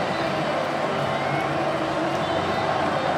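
Large football stadium crowd before the Cardiff City v Swansea City derby in Cardiff, a dense, steady roar of massed voices, distant and unbroken, under commentary.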